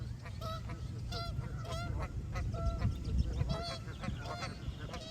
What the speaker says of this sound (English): Look at this ninja goose just coming in here. Neck fully extended, looking mad aggressive.